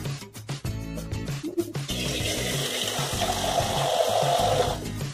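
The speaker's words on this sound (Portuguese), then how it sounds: "E vou botar água no fogão pra cozinhar o macarrão." Tap water runs steadily into a pot on a stove to cook pasta, a continuous rushing splash close by after some kitchen clatter.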